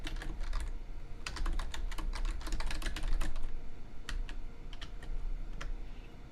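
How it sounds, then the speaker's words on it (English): Rapid clicking on a computer keyboard comes in dense bursts and then sparser taps, close and steady over a low background hum, with no voices. "What is she typing?"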